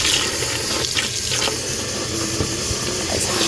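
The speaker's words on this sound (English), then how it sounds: "It's hot water," Hot water runs steadily from a farmhouse kitchen tap, a continuous close splashing hiss with small gurgles as it hits the sink, with no talking.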